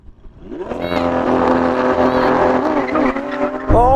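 Lamborghini Aventador Ultimae and SVJ V12 cars launching in a drag race, engines roaring loud and close as they climb steeply through the revs, with a brief shift before pulling hard again.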